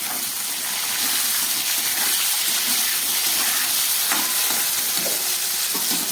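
Potatoes frying in a pan with peas and tomato added, a steady loud sizzle and hiss of hot oil, continuous throughout with faint stirring scrapes.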